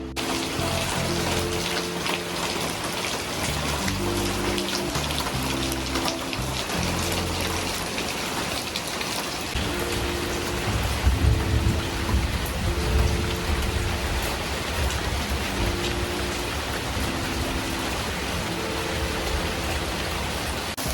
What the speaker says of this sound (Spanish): Justo ha empezado a llover hace un rato y se está creando una atmósfera de calma increíble.